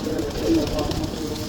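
Pigeons kept in a loft coo softly at close range, a brief low murmuring call over a busy, muffled background.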